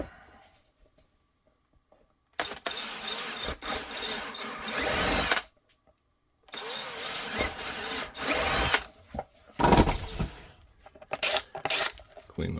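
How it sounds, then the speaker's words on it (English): A power drill bores holes through a holster clamped in a foam press, with two loud sustained drilling bursts separated by short pauses, then several sharp clanks and handling knocks close by. "Now we're going to drill these, add these."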